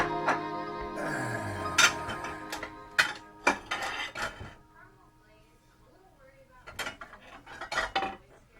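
Bowls clatter and clink while being handled and swapped during instant noodle prep, with several sharp ceramic knocks in bursts, a quieter gap, then more close clattering.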